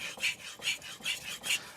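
A Tojiro Shirogami 2 santoku knife is polished on a King 6000/8000 grit whetstone, giving four evenly spaced, close, rasping strokes of steel on wet stone with nothing else heard.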